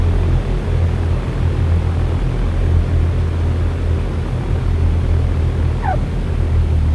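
Aircraft in X-Plane 11 taxiing onto the runway: a steady low engine drone with a constant rumble, holding even throughout with no voices.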